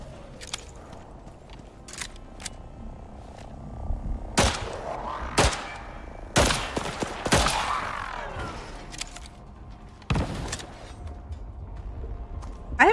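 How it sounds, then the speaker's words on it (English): Pistol shots fired at raptors in the survival game Icarus, several sharp loud cracks spaced apart between about four and ten seconds, over a low ambient background with no talking. "Two pistol shots will bring down a raptor, though, if you can get him in the head."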